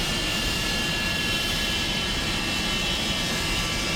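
Jet aircraft XL426 on a high-speed taxi run gives a loud, unbroken engine roar that holds steady throughout, with no talk over it.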